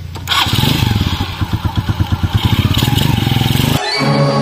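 A habal-habal motorcycle taxi engine runs loud and close, its exhaust pulsing in a steady rapid throb before settling into a smoother idle near the end.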